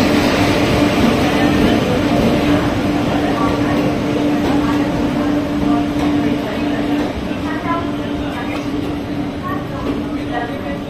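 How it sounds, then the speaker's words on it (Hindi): A train hauled by a WAG 9 electric locomotive rolls in on an Indian line between Moradabad and Dehradun, giving a loud, steady rumble with a sustained hum throughout and voices faintly underneath. "और WAG 9 लोकोमोटिव के साथ ये ट्रेन अपनी आ रही है"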